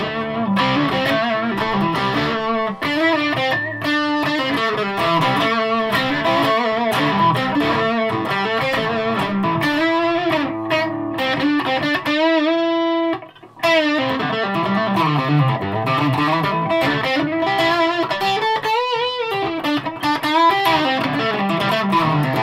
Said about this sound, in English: start to notice that reverb being on.